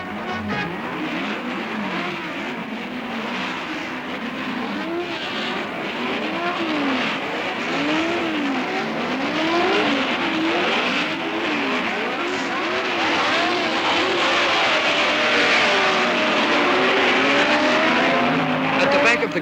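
Several 1964 Formula 1 race cars, including Jim Clark's Lotus, scream past at the British Grand Prix, their engines rising and falling in repeated overlapping Doppler sweeps, loud and continuous throughout, with a commentator talking over them.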